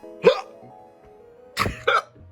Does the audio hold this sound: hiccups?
yes